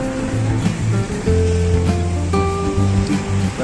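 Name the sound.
Balili River flowing beside the bridge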